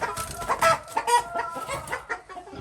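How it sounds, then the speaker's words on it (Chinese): A black-bone silkie rooster kept at home clucks in short, uneven bursts, close and fairly quiet, with no talking. "这个公鸡是无骨鸡，就是乌鸡嘛，乌鸡白凤丸的乌鸡。"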